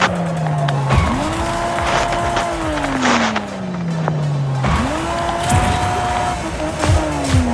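A car in the video game Fortnite roars at full throttle, its engine whine sweeping up and down through gear changes over a constant loud rumble with tyre squeal and skidding, close and dominant with no clear speech.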